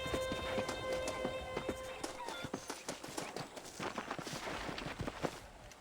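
Horse hooves beat in a quick, steady clip-clop rhythm in the video game Red Dead Redemption, close and clear, while a short musical tone rings briefly at the start.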